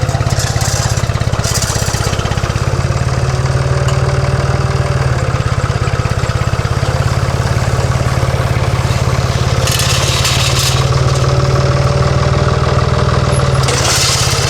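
A Ford tractor engine chugs steadily and loudly throughout on a farm in Portugal, a constant low mechanical drone with a few brief higher rattles and clanks.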